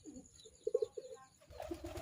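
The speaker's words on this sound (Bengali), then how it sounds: "আমার অনেক পছন্দের কবুতর এই জোড়া।" A pair of pet pigeons cooing nearby, a few soft rolling coos in a short burst, followed by a quieter coo over faint background shuffling.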